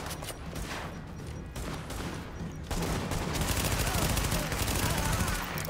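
Sustained automatic gunfire in a shootout in The Division, dense rapid bursts of shots filling the whole stretch and growing louder and more continuous in the second half, with no talking.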